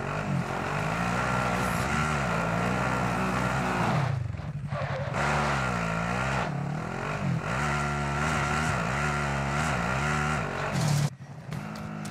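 Game vehicle engine in Call of Duty Warzone Pacific drones steadily and loudly, its pitch rising and falling through gear shifts, with a brief cut near the end and no talk.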